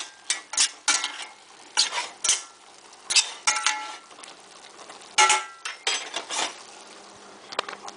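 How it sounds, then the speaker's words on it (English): A meat pie mixture gets stirred in a hot pan, with bursts of spoon scraping and clattering against the metal in irregular rhythm, close and fairly loud, separated by brief quiet gaps, with no one speaking. "Let that heat give your meat pie mixture a stir."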